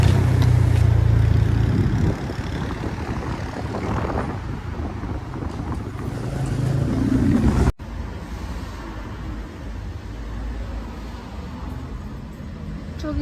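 A motorcycle ride through a Mexican city, with a steady engine drone and heavy wind buffeting the microphone, loud at first and then slightly quieter after a brief cut.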